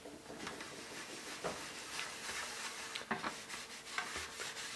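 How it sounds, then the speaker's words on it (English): Soft, close scrubbing of a sponge spreading cleaning paste over an aluminum pan, quiet irregular rubbing strokes with occasional sharper scrapes. "Grab a sponge . Get a little bit of the paste on there."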